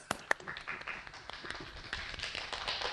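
Applause for a speaker at an online fertility preservation talk: a brief patter of claps and taps, a couple of sharp hits at the start, then a scattered, fairly close clapping texture over three seconds.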